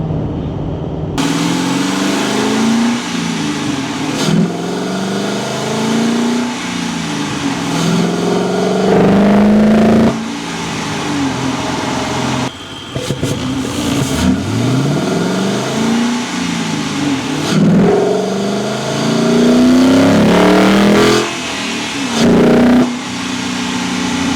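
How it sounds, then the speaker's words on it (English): A Ford 3V V8 fitted with an aftermarket cold-air intake gives a loud, close-miked induction roar through repeated revs, with rising and falling whooshes and brief dips between pulls. "give you a little bit of that induction noise that you get with these intakes over the stock ones"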